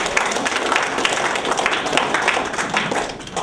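Crowd applause at a national zakat convoy event, with dense, continuous clapping close by throughout.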